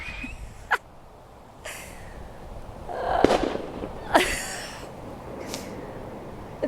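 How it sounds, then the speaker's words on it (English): Firecrackers set off to haze predatory birds away from salmon along a river, a handful of sharp distant pops and bangs spaced irregularly over quiet outdoor ambience. "It's like a fireworks show, but it's for the birds"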